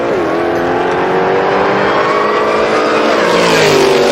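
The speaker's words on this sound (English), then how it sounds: "The Fox Coupe hitting fourth gear into the finish line." A Fox Coupe drag car with a modular Ford engine roars at full throttle down the strip at a drag racing event, a loud, steady engine note climbing in pitch, with a brief gear change near the start.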